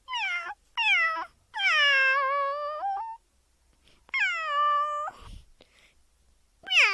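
Several people imitate cat meows, with drawn-out, wavering mews in a few bursts separated by short pauses, loud and close.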